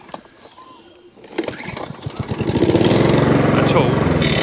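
Mountfield 474 lawnmower engine pulled over and starting, then running with a steady loud drone that builds after a few sputtering firing beats, heard up close with a voice briefly at the start.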